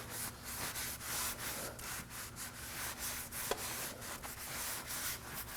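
A rag wipes oil off engine parts on a 2014-2020 Acura MDX 3.5L V6 during an oil change, with quiet repeated rubbing strokes in a steady back-and-forth rhythm and one brief tap near the middle.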